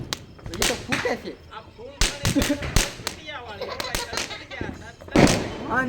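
Diwali firecrackers burst outdoors in a string of sharp, loud bangs and cracks at uneven intervals, with one heavier blast near the end, while people talk and exclaim nearby.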